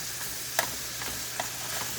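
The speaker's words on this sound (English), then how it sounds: "so we're still continuing to brown the meat" Taco meat browns in a pan for dehydrated backpacking meals, a faint steady sizzle with a couple of soft utensil scrapes as it is stirred.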